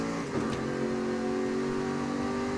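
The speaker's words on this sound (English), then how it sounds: "The gear changes sound so cool on it though." A car engine in Forza Horizon 5 holds a loud, steady drone with a brief jump in pitch early on, like a quick shift, then settles into an even, sustained tone.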